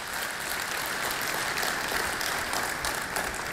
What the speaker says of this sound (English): I was going to say, you better applaud.